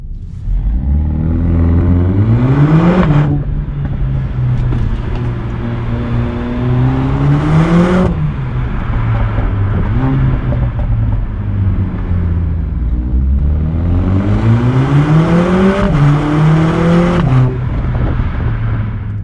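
A 2020 Mercedes-AMG A45 S engine and exhaust rev loudly and close by in three rising bursts, each climbing in pitch and then dropping back to a steady idle between them.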